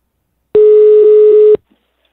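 An electronic telephone ring sound effect: a single steady, bright tone lasting about one second, loud and alone against silence.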